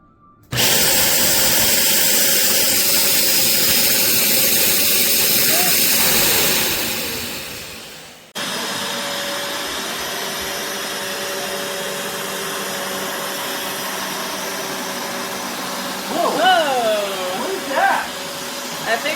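A Bissell Revolution HydroSteam pet upright carpet cleaner whirs loudly and steadily, powers down, then starts again with a steady suction drone, brief squeals of sucked-up water and dirt near the end.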